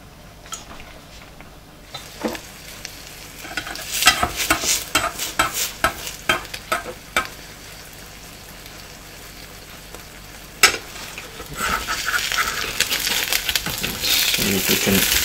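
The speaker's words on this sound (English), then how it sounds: "pop a bit of oil into a frying pan" A quiet kitchen scene: scattered clicks and scrapes of a utensil in an oiled pan, then a steady sizzle of omelette mix frying rises and continues.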